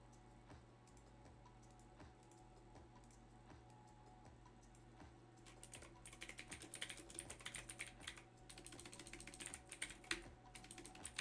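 Fingers type on a computer keyboard close by, slow scattered keystrokes at first, then a faster, denser burst of clicking over a low steady hum, with no voices.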